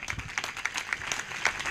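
Church congregation claps in a brief burst of applause, fairly close and rhythmic with sharp individual claps standing out.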